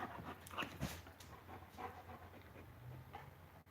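A dog pants close by in quick, irregular breaths, fairly quiet, with a few soft whimpery sniffs over a faint low background hum.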